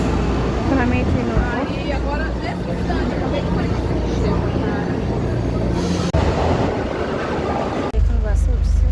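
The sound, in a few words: metro train ride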